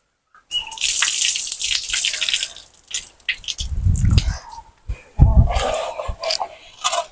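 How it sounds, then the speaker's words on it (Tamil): Water is drained off and poured out in a village kitchen, producing close bursts of splashing and running water with gurgles, short pauses and clattering, and no one speaking. "தண்ணிய வடிச்சு ஊத்திட்டு வரேன்."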